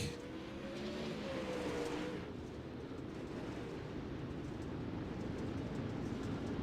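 Pro Late Model race cars lap Lanier in the iRacing sim, their engines a steady, continuous roar with a passing rise and fall early on, mid-distance and fairly loud, with no talking.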